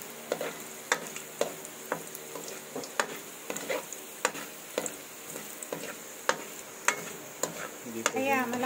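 Garlic frying in a pan while being stirred, a steady soft sizzle broken by regular scraping clicks of the spoon every half second or so, close and fairly quiet.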